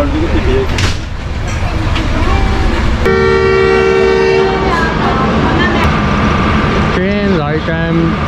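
The Allama Iqbal Express departs on the Lahore to Sahiwal route, heard from close by as loud, steady rolling rumble with a long sustained horn tone and later wavering horn notes, while people talk over it.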